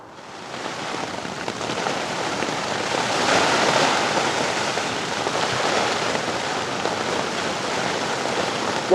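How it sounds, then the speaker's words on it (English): Heavy rain pours steadily onto a wild-camping shelter in the UK during stormy weather, a dense, continuous hiss that swells slightly midway and stays close and loud throughout, with no voices. "the rain started tipping down"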